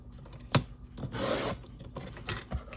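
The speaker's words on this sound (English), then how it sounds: "I think I'll trim the top." Textured paper page for a junk journal being trimmed, with a sharp cutting snap followed by a longer rasping slide of the blade through the paper, then a few softer cuts, close up and without talk.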